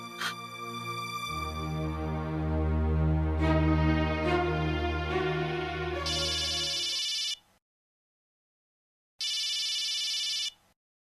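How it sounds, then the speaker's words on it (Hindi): An outgoing phone call: a telephone ringback tone repeats in long electronic bursts, preceded by a musical ringtone melody, with a silent gap between rings. "छुटकी को एक फोन तो लगा।"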